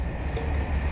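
Steady low rumble inside a train carriage full of commuters running through a tunnel, a dense droning noise with no speech.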